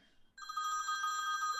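A telephone rings close by with a bright, rapidly trilling electronic bell that starts abruptly and continues steadily.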